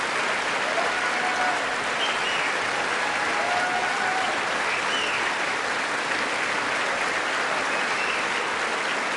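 A large audience applauds in a dense, steady roar of clapping that holds at an even, loud level without a break.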